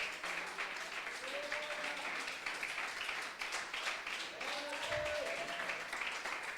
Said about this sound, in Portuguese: Bata palmas para Ele.